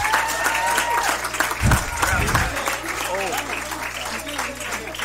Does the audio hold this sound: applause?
yes